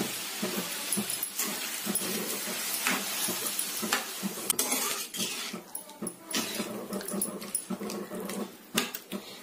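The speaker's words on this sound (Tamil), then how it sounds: "நம்ம இடையில இடையில கொஞ்சம் கிண்டி விட்டுக்கலாம்." Jackfruit halwa with sugar syrup stirred in a pan, scraping and rattling ladle strokes mixed with a steady bubbling sizzle, close and fairly loud.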